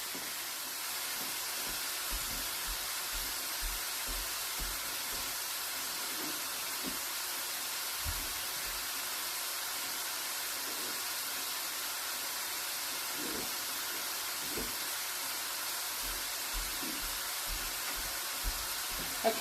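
Lettuce wrap filling sizzles and hisses steadily in a pan as it cooks until crispy and dark, a constant frying noise with faint occasional knocks underneath.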